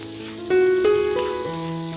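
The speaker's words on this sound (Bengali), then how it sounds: "পেঁয়াজটাকে একটু নেড়ে চেড়ে ভেজে নেব" Chopped onions frying with panch phoron spices in oil, a steady close sizzle that swells briefly under background music.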